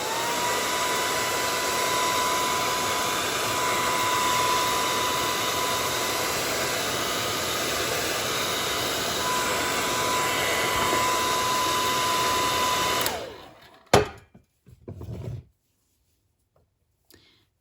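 A hair dryer blows over a painted fabric primitive snowman craft, a steady, close, continuous roar lasting about thirteen seconds before it clicks off, followed by a few brief handling knocks and quiet.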